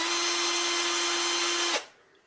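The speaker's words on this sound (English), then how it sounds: "this one's really nice and it didn't cost very much, and it's meant to go in a drill like so" A power drill spins a cheap diamond sharpening disc that wobbles slightly, used for sharpening a table saw blade, giving a loud, steady high whine that cuts off abruptly near the end.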